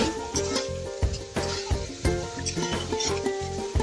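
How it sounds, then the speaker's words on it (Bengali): Masala for chicken kosha sizzles in a pan while being stirred, with rhythmic scraping strokes and light metallic clinks over a continuous close frying crackle. "তারপরে আমি আবার মশলাটা করতে দিচ্ছি।"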